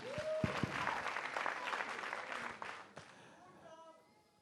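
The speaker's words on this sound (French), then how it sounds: "Applaudissez pour lui." Audience applause at a Faso Academy 2017 quarter-final singing competition in a hall, a dense crowd clapping loudly that tapers off near the end, with a voice and some tonal sounds over it.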